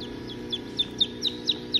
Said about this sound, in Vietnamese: chim trĩ con mới nở hồi tối hôm qua nè